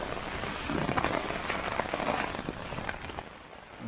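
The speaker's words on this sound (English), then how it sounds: "It's starting to rain a little bit more now." Steady rain patters on a taut tent roof overhead during a thunderstorm, a dense, close hiss of drops with no voices.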